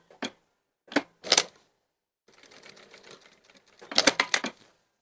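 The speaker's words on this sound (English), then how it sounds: "I'm machining probably about 1/8 of an inch away from the" A sewing machine stitches a waistcoat welt pocket in short separate bursts of rapid ticking, then a longer run and a final cluster, close and clear with no speech.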